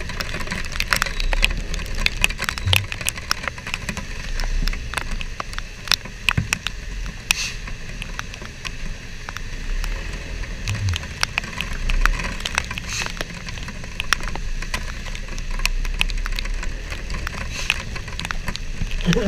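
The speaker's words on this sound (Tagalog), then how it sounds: "Malamig ang ulan." Rain pours steadily during a typhoon in CSJDM, Bulacan, a dense continuous patter with sharp drips and crackles against surfaces, close and sustained throughout without talk.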